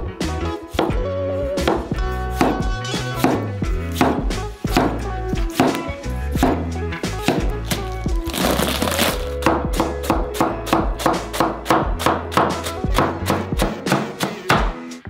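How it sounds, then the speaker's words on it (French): Knife slicing tomatoes on a cutting board, a steady series of crisp chopping thunks against the board, close and loud, continuing in a regular rhythm throughout. "Les tomates sont coupées en tranches."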